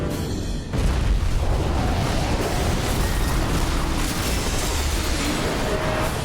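A loud bomb blast from a Tom Clancy movie trailer hits suddenly, then rolls on as a dense, sustained roar of debris and rumble.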